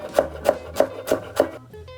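Five evenly spaced knife chops through fresh coriander on a board, crisp and close, followed by a short pause with faint handling sounds.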